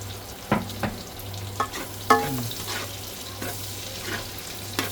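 Garlic fries for pinakbet in a pan, giving a faint, steady sizzle under a low hum, broken by a few sharp clinks and knocks of utensils.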